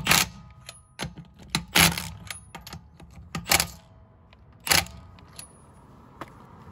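A Milwaukee M12 Stubby impact wrench tightening in automatic mode gives several sharp, loud mechanical bursts of varying length, spaced irregularly over a low background rumble, with no voices.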